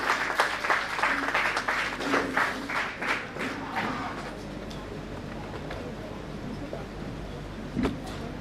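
An audience at a college philosophy seminar claps in welcome for an invited professor, a moderate burst of applause that fades after a few seconds into quieter room noise and a voice.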